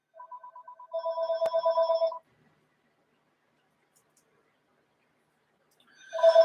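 A cell phone ringing indoors: bursts of electronic ring tones, a short pulsed pattern followed by a longer sustained trill, then silence before the ringing starts again, clear and fairly close with no talk.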